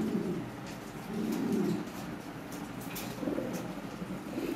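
Adult breeding pair of original Lahori pigeons cooing in a loft, low soft repeated coos rising and falling over steady background hiss, fairly close and continuous.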